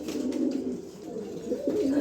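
A pair of super-quality racer pigeons coo in low, throaty rolls close by, repeating over a couple of seconds with no speech.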